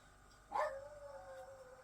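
A dog howls at a door, one short rising whine that trails off into a thin, drawn-out tone, fairly faint and heard alone in a quiet room.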